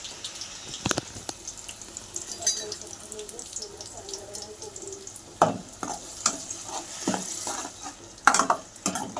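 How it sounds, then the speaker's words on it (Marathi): A raw ground paste of onion, tomato, ginger, garlic, coconut and coriander fries in oil for an egg curry, with a soft steady sizzle broken by scattered scraping stirs and sharp utensil clinks. "आता आपण हे तेलात तळून घेऊ."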